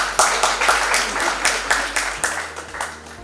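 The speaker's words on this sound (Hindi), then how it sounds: "सबसे पहले तो जिन्होंने जवाब दिया उन सबके लिए तालियां होनी चाहिए" Audience applause in a room for people who answered a question, a burst of clapping with individual claps audible, fairly close and steady, tapering off near the end.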